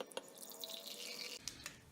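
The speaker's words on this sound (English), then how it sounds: "We're gonna add hot water to that." Hot water pours into an MRE drink pouch from a Danish 24-hour combat ration, a steady bright splashing stream that cuts off, followed by a couple of soft drips.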